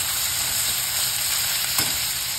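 Ginger garlic paste and coarse garlic fry in hot oil for mung bean bhaji, producing a dense, even, close sizzle with a brief soft clink near the end and no voices.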